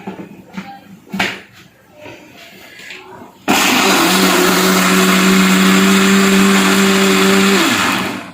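Blender whirring loudly as it mixes a mango milkshake with sugar and ice, starting abruptly after some kitchen clatter and talk, running steadily for several seconds and then winding down.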